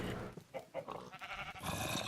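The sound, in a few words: cows from a video game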